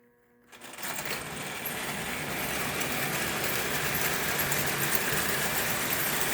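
A standard gauge toy steam train runs steadily around a model layout, giving a continuous close mechanical whirr and rattle that starts after a brief silence and holds at an even, fairly loud level.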